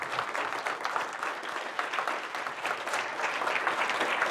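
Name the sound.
audience applause for conference organizers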